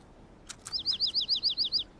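A small bird in a children's cartoon gives a quick run of high, rapid chirps, about ten short tweets in a row, clear and close.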